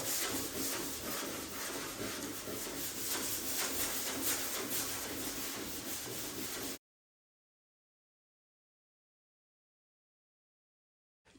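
Steady, even rubbing and scraping as 320-grit sandpaper works high build primer on a carbon fiber car trunk, running continuously for several seconds and then stopping abruptly into silence.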